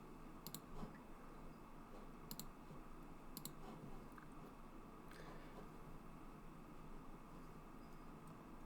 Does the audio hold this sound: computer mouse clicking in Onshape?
yes